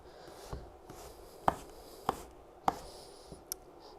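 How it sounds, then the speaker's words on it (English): Knife slicing through an apple onto a cutting board, several distinct close thunks spaced about half a second apart with faint crunching in between, no talking. "So now I'm going to cut up the rest of this apple."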